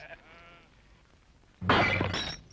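A sheep bleats faintly at a distance in a field, then a loud crashing break like glass shattering bursts up close.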